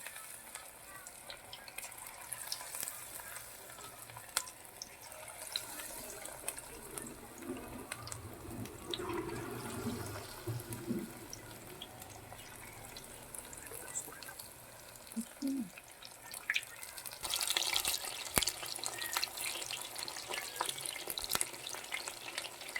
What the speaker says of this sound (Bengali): এইভাবে লাল লাল করে একটু ভেজে নিতে হবে পকোড়াগুলো